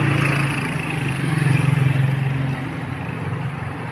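A motorized tricycle passes along a village road, its small engine putting along with a low rhythmic drone that swells as it nears and then fades, fairly loud and close.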